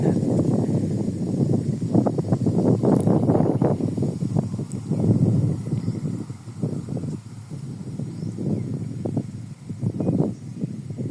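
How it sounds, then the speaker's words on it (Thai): Wind gusting through leaves beside a rice field in Maha Sarakham, Thailand: a broad, rushing, rustling roar that swells and fades in uneven waves, close to the microphone and heavy with buffeting, with no speech. "ลมเย็นดี เนี่ยดูสิ ใบไม้ ดูใบไม้นะครับ หรือว่าเสียงลมก็ ถ้าได้ยินเสียง"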